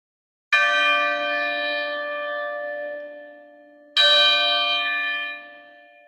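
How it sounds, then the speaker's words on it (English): Two loud, ringing strikes of a single bell during a stage rehearsal of Macbeth, each with a long resonant decay, the second coming about three and a half seconds after the first, with no voices over them. "The bell invites me."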